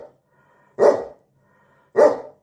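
Two loud, close barks from a Newfoundland dog indoors, about a second apart with quiet between them, no talking over them.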